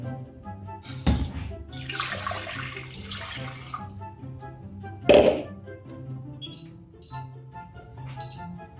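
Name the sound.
water poured into a pot with fish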